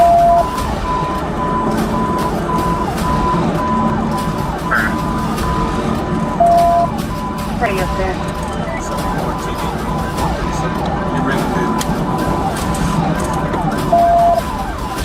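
Police sirens wail steadily amid loud, dense traffic and engine noise, with a brief voice speaking over the din, during a pursuit of a Nissan GT-R.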